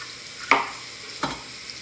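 Chopped green bell peppers for chicken tortilla soup going into a hot pot, two short sharp sizzles about a second apart that fade quickly.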